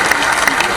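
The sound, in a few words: audience applause at a conclave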